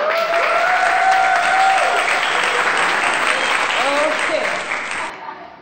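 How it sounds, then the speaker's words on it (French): A church congregation applauds loudly in a sustained burst of dense clapping, with cheering voices rising above it before it fades out at the end. "Applaudissez très fort."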